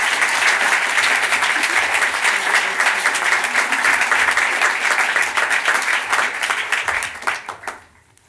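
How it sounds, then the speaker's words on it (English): An audience applauds a speaker being introduced at a talk on hope and asylum seekers. The clapping is dense and sustained, filling the room for about seven seconds before quickly fading out. "So please, a big round of applause for Abiola."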